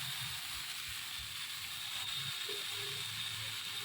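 Arabian water spinach greens fry in hot oil in a home kitchen, giving a faint, steady hiss and sizzle with a few soft low clatters underneath.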